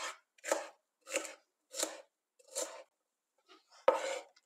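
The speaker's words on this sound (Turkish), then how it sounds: "Önce jülyen kesiyorum." A knife cuts half a kapia pepper into julienne strips on a board, six crisp separate chops in a slow even rhythm, close and clear against silence.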